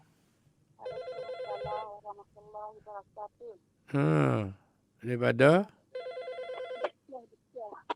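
Telephone ringing on a live call-in religious radio broadcast, two bursts of steady ring tone with a caller's voice between and after them.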